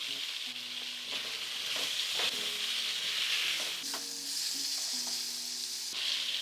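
Potatoes frying in oil in a pan, heard as a loud, continuous close sizzle with repeated scraping and stirring knocks, with no talking.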